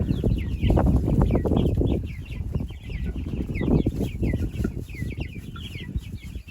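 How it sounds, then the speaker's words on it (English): Chickens cluck steadily during evening barn chores, a busy overlapping chatter of short calls close by, with a constant shuffle of movement underneath and no talk. "Oh, that is such a cute chicken."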